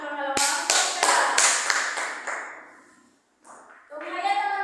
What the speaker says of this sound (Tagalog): Bigyan natin ng masigapong palakpak ang pangalawang pangkat.